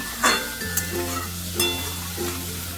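Water poured into a pan of sautéed bhola fish curry masala with onion greens sets off a loud, steady sizzle and frying hiss, with a few clinks of a utensil against the pan.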